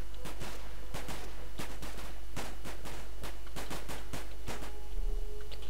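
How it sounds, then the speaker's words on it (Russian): Gunfire in a video game on The Great War map: a steady run of sharp, loud shots, some single and some in quick clusters, crackling without pause over constant battle ambience, with no voices. "Не знаю, я тут стрелять пытаюсь."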